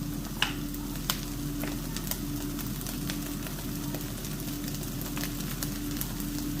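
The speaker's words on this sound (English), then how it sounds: "now I'm going to add my garlic" Garlic puree dropped into a pan of sweating onions, a steady loud sizzle and crackle running throughout with occasional small pops, close by and without talk.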